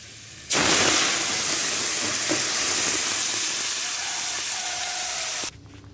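Red lentils dropped into hot oil with fried bay leaves, erupting into a loud, steady sizzle that holds for about five seconds and then cuts off abruptly.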